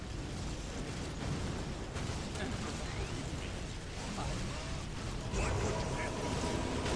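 Strafing-run explosions in the Warhammer strategy game Dawn of War Soulstorm rumble in dense, continuous bursts of booming noise, loud and close throughout, with a voice faintly audible underneath.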